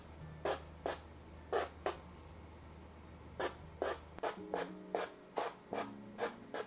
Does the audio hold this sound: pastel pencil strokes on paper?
yes